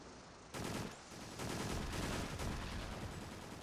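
Gunfire in the Extermination video game's final boss fight, a dense, sustained barrage of shots and blasts blending into a continuous roar after a sharp onset, with no voice over it.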